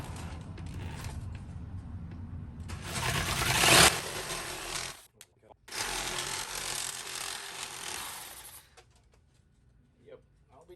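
Wood is being sawed for a zombie radio Bluetooth player build, with sawdust flying. Two rasping, scraping bursts come close and fairly loud, broken by a short pause, then the sawing stops.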